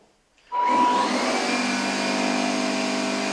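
A Gtech Air Ram cordless upright vacuum cleaner switching on from silence, its motor spinning up within half a second into a steady, loud, even whine and whoosh that holds without change, close by and alone.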